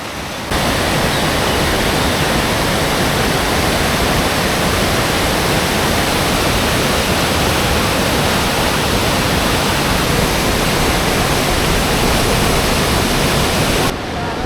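A river rushes loudly nearby, a continuous, full roar of churning water that holds steady at close range, with no voices, and then cuts off abruptly at the end.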